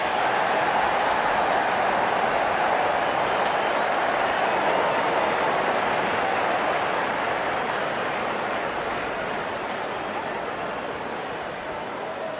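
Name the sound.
cricket crowd cheering as openers walk in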